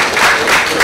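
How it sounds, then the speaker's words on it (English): A conference audience at an economic outlook event breaks into brief, dense applause, steady and fairly loud with no talk over it. "Another round of applause there."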